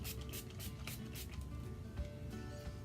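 Redken Iron Shape heat protectant sprayed onto hair in a run of quick, hissy spritzes, close and fairly steady, with no talking.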